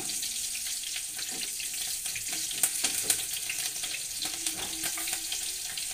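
Green chillies frying in a pan for mint rice, a continuous soft sizzle with occasional light clicks and a brief faint tone, fairly distant and even throughout.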